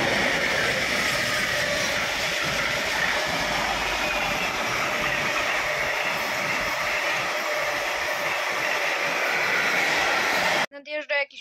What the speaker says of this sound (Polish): Nadjeżdża jakiś pociąg towarowy.